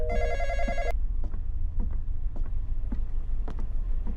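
An electronic phone ring in the Roblox game The Intruder chirps briefly for under a second, then gives way to a low rumbling background with scattered soft clicks.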